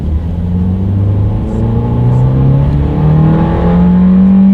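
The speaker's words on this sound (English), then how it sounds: "let's do a quick little acceleration, see how quickly we can get this go-kart-ish 2019 Fiesta here up to speed" A 2019 Ford Fiesta accelerates hard from inside the cabin, the engine note climbing steadily through the revs in a loud, continuous drone with a brief shift partway through.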